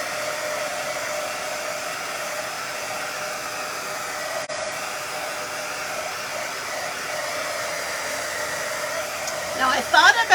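A hair dryer blowing on fresh paint runs as a loud, steady, close whoosh with a constant motor hum, and a faint voice comes through near the end.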